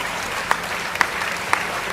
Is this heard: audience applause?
yes